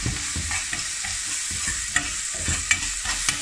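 Garlic fries in a cocotte with a constant crackling sizzle, while a utensil stirs and scrapes in repeated knocks and sharp clicks close by.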